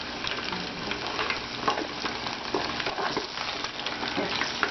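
Coconut shrimp frying in hot oil give a dense, continuous crackling bubble with small pops, close and even in loudness throughout, with no one speaking.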